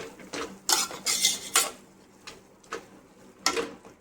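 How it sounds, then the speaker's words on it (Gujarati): Spoon scraping and clattering in a pan as milk is stirred into roasted beetroot for halwa, with several short bursts close up and quieter pauses between them. "તો હવે આપણે એમાં એડ કરશું 1 વાટકી જેટલું દૂધ। સારી રીતે મિક્સ કરી લેશું।"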